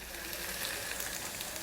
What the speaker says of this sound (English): Saute until it gets nice golden from all the sides.